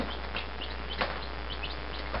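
Rhode Island Red and New Hampshire Red cross chicks peep softly in a brooder, a steady chorus of small high chirps over a constant low hum, with one brief louder call midway.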